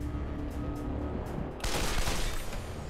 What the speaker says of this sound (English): Yeah, let's go for the cannon.